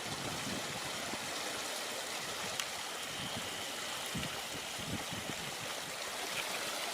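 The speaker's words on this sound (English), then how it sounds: "Beautiful fresh mountain running water." Fresh mountain stream running near a loch-side wild camp, a constant close rush of water with faint low rumbles beneath and no speech.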